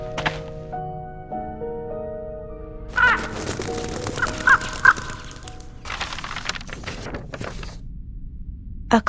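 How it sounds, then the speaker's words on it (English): A crow caws a few times amid a busy game-like scene with layered tones, thumps and cracks, the harsh calls short and clear against the background. "A crow?"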